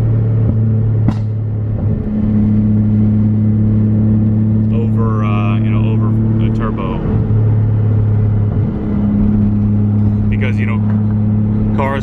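A Nissan 240SX with a turbocharged 1JZ engine drones steadily from inside the cabin, its low engine note holding throughout while a voice talks over it.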